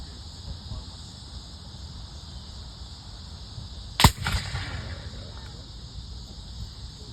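A single gunshot from a fairly quiet gun, one sharp crack partway through with a short tail, over a low steady background hiss.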